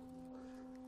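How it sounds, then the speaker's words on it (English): A steady pure sine tone generated by a computer and played through internal speakers, one unbroken held pitch with a faint overtone above it, lasting about a second at moderate level. "There, now we have a very exciting sine wave."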